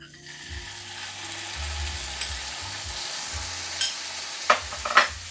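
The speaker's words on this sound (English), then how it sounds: "in the same pan, I'm just going to take, I'm going to take the ranchero sauce and warm it up" Ranchero sauce warming in a frying pan gives a steady low sizzle with soft scraping and stirring, and a few sharper utensil clacks near the end.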